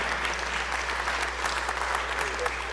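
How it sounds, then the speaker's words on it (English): Audience in a state House legislative chamber breaks into steady, dense applause, continuous clapping throughout, with a faint voice underneath. "Give him a round of applause"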